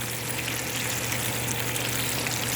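Steady, close sizzling of food frying in hot oil, a continuous crackling hiss with no talking.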